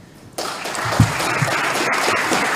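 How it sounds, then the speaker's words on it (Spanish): After a moment of near quiet, an audience at a lecture bursts into applause for a doctor who has just finished speaking. The clapping is loud and close and stays dense and continuous to the end. "Lo aplaudimos al doctor Pablo Saavedra Alessandri."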